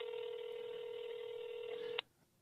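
A telephone ringback tone from a call placed during a late-night radio talk show: one steady, buzzing tone holds for about two seconds, then cuts off abruptly into quiet.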